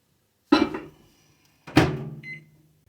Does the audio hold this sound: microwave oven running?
yes